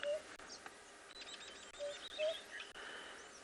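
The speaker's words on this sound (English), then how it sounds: "Pretty sure that's a cuckoo calling." A cuckoo calls a few times in the open African bush on a morning safari drive, its short tonal notes faint and distant over a low rustling background, with no talk.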